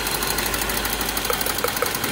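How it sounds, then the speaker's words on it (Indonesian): A car engine idling roughly with one spark plug cable pulled, a loud close uneven running drone with faint knocking pulses near the end. "Tuh, ini kayak mau mati kalau kita cabut untuk kabel businya."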